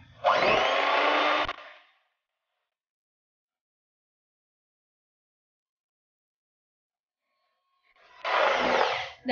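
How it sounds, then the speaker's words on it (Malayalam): Electric hand beater whisking eggs at high speed, a steady loud whirring buzz in two bursts at the start and end, separated by several seconds of silence; no talking. "അപ്പോൾ ഞാനിപ്പം ബീറ്റർ ഉപയോഗിച്ചിട്ടാണ് ഉപയോഗിക്കുന്നത്. നല്ല സ്പീഡിലിട്ടിട്ട് ആദ്യം അടിക്കാം"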